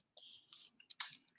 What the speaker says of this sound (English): I'm just randomly clicking on my keyboard